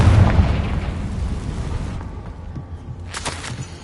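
A Confringo spell explosion bursts loudly in Hogwarts Legacy, a close boom that rolls off into a fading rumble, followed by a brief swishing burst near the end, with no talking.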